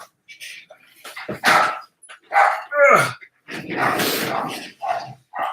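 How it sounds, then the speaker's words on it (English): Dogs bark and whimper excitedly in bursts close by, with some yelps mixed in and no pauses longer than a moment. "that's my dogs freaking out because wifey's home."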